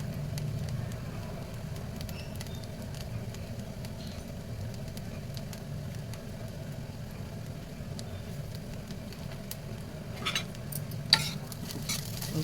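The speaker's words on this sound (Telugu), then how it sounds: "ఇంకా కలిపేస్తున్నానండి." Raw prawn curry is stirred and fried in a pan, giving a steady, low sizzle throughout with faint scraping clicks of the spoon, near and moderately quiet.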